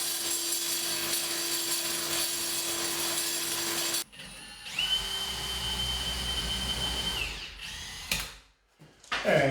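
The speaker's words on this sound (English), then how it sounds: "I'm going to be using the angle grinder with the diamond blade on there" An angle grinder with a diamond blade whines steadily, then a high-pitched grinding cut begins, cutting slots, and holds for a few seconds before winding down and stopping.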